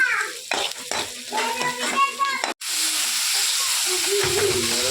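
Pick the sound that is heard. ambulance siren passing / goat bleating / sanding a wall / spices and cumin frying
spices and cumin frying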